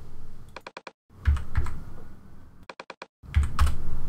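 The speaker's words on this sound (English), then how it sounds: "double-click to type any size that you want in the Width and Height fields. So you might type 17 by 20." Typing on a computer keyboard to enter width and height values in Photoshop Elements, two quick bursts of crisp clicks separated by pauses, close and clear with no talk.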